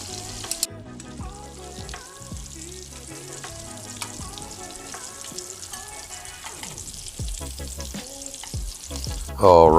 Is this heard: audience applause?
no